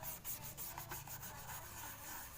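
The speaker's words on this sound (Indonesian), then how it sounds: "kalian gosok kawan, digosok dengan menggunakan sikat gigi seperti ini kawan ya" A toothbrush scrubs oil onto a car dashboard with quiet, rapid back-and-forth rubbing strokes, close up and faint, with no talk.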